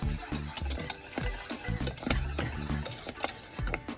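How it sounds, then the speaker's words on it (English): A cornstarch mixture for a parfait is whisked in a pot, with quick repeated metal scrapes and taps against the pan over a soft bubbling sizzle, close and busy, no voices. "I am whisking away to keep those lumps at bay."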